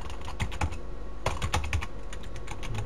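Fast typing on a computer keyboard, close and clear, with irregular clusters of key clicks and brief pauses and no talking.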